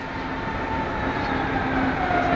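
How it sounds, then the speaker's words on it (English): A passenger train running from Berlin to Köln at a station gives off a steady, even rumble with a faint tonal hum, continuous and close, with no voices. "This train's going from Berlin to Köln."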